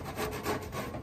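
Oil-based modelling clay being scraped off a pan with a tool for reuse, a steady close rasping rub that continues without pause, with no speech.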